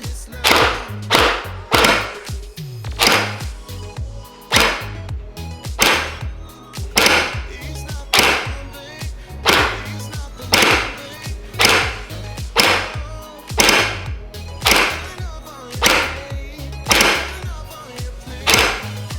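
HE ACR gel blaster firing gel balls on semi-auto, a steady series of about twenty loud, sharp single shots spaced roughly a second apart, each a close snapping thump.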